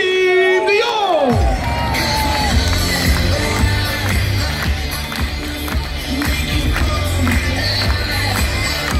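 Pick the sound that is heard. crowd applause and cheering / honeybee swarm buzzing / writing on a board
crowd applause and cheering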